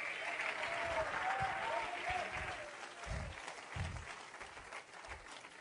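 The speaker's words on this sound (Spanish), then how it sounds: "Alguien dele un fuerte aplauso al Señor en esta hora." A church congregation applauds with sustained, moderately distant clapping and crowd noise, with a few low thumps underneath.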